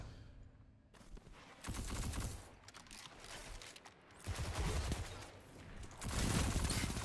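Bursts of rapid gunfire in a one-on-one video game match, three loud volleys of shots separated by brief lulls, with dense crackling reports.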